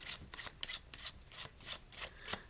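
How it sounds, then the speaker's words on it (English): A deck of playing cards is shuffled by hand during a card trick, giving quiet, close, rhythmic riffling bursts about twice a second with brief gaps between them. "And then start shuffling the rest."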